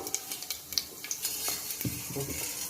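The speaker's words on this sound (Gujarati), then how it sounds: "હવે આપણે એમાં એક ચમચી જીરું નાખી દઈશું" Cumin seeds sizzle and crackle in hot oil, a quiet steady hiss dotted with small pops and a few soft stirring clinks.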